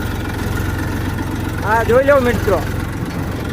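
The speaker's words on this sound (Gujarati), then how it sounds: "ટ્રેક્ટર હાંકવાની તો બહુ મજા આવે મિત્રો" A tractor engine running steadily on a wheat farm, a low continuous rumble close by, with someone talking briefly over it.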